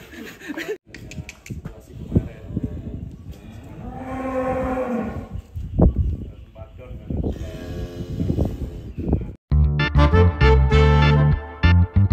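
A huge, rare European-breed bull calf or cow moos several times, loud and close, with livestock handling noises and people talking around it as the animal is led out of its stall.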